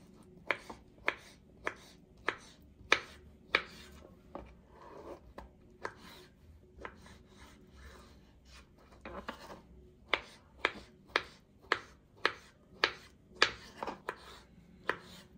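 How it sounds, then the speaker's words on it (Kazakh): A knife chopping carrot on a cutting board, sharp evenly spaced taps in quick runs with a short pause midway, close and fairly quiet. "Міне ендігі кезекте екінші сабызымызды да турап болдық."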